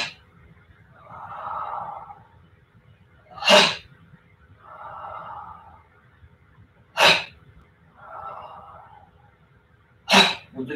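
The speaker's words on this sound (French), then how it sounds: "Vous suivez le son de ma respiration." Deep breathing exercise before taekwondo practice: three slow, steady in-and-out breath cycles, each ending in a sharp, forceful exhale, close and alone in a quiet room.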